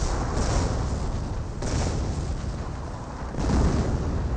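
A mortar emplacement in Company of Heroes fires repeatedly in a World War II battle, producing heavy booms about every one and a half seconds over a continuous dense rumble of combat noise.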